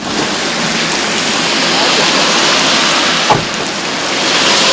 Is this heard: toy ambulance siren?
no